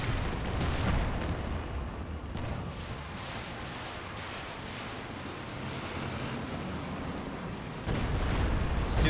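An SU-85 tank destroyer firing in Company of Heroes 2, heavy booming cannon fire over a dense battlefield rumble of explosions, loud and sustained, with a stronger blast near the end.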